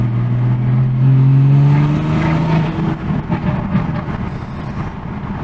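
BMW 340i with a turbo-swapped B58 engine running, loud and close, its pitch climbing through a rev before settling into a rougher idle.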